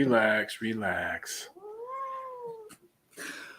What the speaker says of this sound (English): This cat's mean, bro. I can hear that.